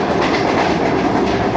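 Shalimar Express passenger train running on rails, a loud, steady rumble with rhythmic clickety-clack of the wheels throughout.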